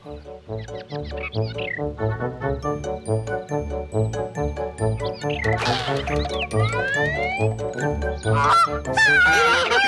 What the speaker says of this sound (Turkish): Kaz gelme kaz. Git.